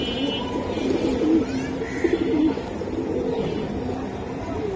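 Silver Giribaj pigeons coo in soft, low, rolling phrases at a pigeon sale, several bursts close together over a steady background murmur, with a faint voice now and then.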